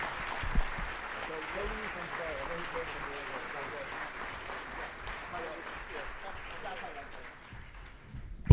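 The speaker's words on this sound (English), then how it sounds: "Please give them a round of applause." Audience applause closing a Capitol Hill update event, an even spread of clapping carrying through the clip with some talk faintly mixed in and a sharp noise at the very end.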